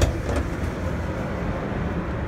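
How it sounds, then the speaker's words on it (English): An RTD light rail train pulls away from County Line station with a steady, loud rumble and a hum of motor and wheels, growing slightly quieter as it departs. No voices are heard. "Just watch the train leave and then we will end it."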